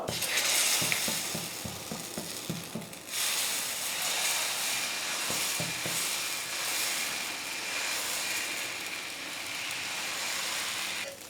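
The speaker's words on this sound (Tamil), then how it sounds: "தோசைக்கல்ல சூடு ஏறிடுச்சு நம்ம தோசை ஊற்றிக்கலாம்" Black chickpea dosa batter hits a hot griddle and sizzles loudly in a steady hiss, with a few quick clicks and taps early on as it spreads.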